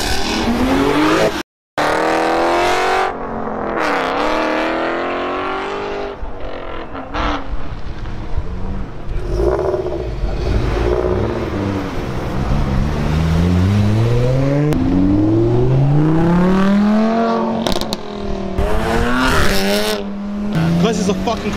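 Cars at an Engineered Automotive cars and coffee meet, engines revving hard with rising and falling pitch sweeps, tires squealing and a car passing, loud and close with crowd voices mixed in.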